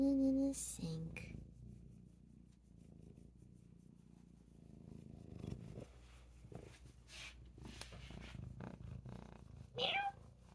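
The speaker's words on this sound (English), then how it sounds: "Let's show you the cat in the sink real quick." A kitten sitting in a sink purrs softly and continuously up close, with a few brief louder sounds and a short voice near the end.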